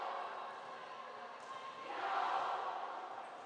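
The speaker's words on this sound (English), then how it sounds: "You'll hear the fans cheering." Volleyball fans at a national under-19 championship match make a broad crowd roar that holds steady, then swells louder in the middle before easing slightly.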